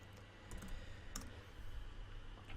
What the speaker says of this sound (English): you just click in the search bar and then type